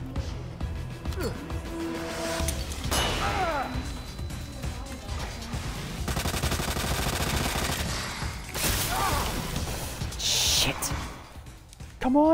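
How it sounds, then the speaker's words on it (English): A submachine gun in Resident Evil 2 Ghost Survivors fires in rapid rattling bursts, loud and close, broken by pauses and mixed with other game sounds and a player's voice. "I hate the submachine gun in this game."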